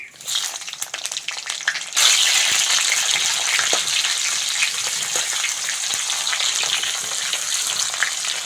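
Bay leaf and black cumin seeds crackle as they hit hot mustard oil in a wok, a sudden loud sizzle swelling after a quieter start and holding as a steady hiss.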